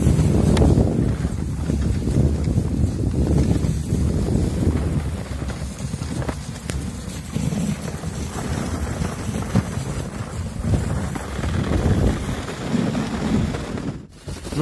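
Strong wind blows during a mountain snowstorm, roaring and buffeting loudly against the microphone in uneven gusts, close and continuous for the whole stretch, easing slightly midway before rising again, with a sharp knock near the end.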